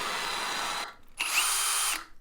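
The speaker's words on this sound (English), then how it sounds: "put it on the grinder and just grind it flat." A bench grinder flattens a mound of brazing rod built up on a multi-bar billet for a knife blade, in two loud bursts of high-pitched grinding split by a short pause.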